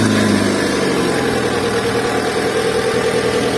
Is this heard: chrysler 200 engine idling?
yes